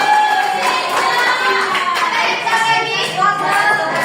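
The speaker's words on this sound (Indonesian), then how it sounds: "tepuk tangan untuk Sensa" Classroom applause for a student who answered, a group of children clapping in a steady dense patter with voices and chatter mixed through it.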